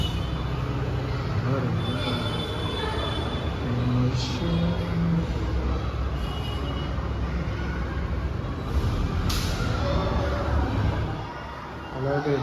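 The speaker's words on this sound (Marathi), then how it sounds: "आता ट्रॅफिक बघा कधी झालं" Morning road traffic on a village street outside a temple, a steady continuous rumble of passing vehicles close by with engine drone throughout and occasional louder passes.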